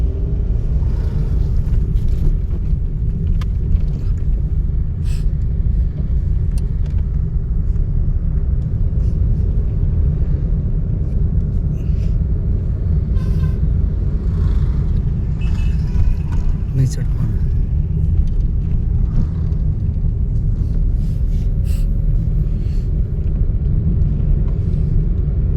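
Car engine running during a driving lesson, a steady low rumble throughout with people talking over it.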